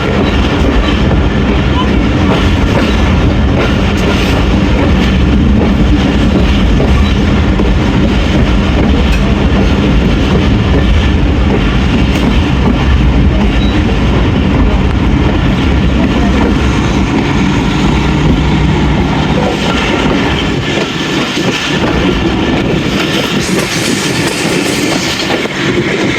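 Jaffar Express passenger train running at speed on the Attock to Lahore line, with loud, continuous wheel rumble and rhythmic clickety-clack on the rails throughout, carriage noise filling the whole stretch.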